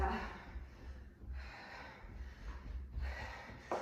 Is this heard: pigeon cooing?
no